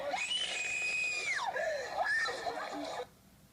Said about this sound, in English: She clearly doesn't want to be handcuffed. She's screaming.